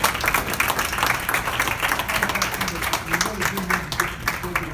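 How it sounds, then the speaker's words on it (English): Applause from an audience for core committee members at an annual meeting, dense steady clapping throughout with a faint voice underneath. "let's give them a round of applause"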